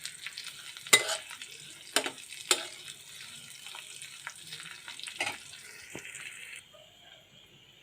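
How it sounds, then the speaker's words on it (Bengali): Panch phoron spices hit hot oil for a masoor dal, giving a hissing sizzle with a few sharp crackles and pops early on, then settling into a softer, steady fry close by. "পাঁচ ফোড়ন দিয়ে দিচ্ছি"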